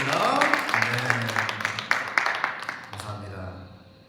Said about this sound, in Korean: 우리 월십팀한테 우리 함께 감사의 박수 하겠습니다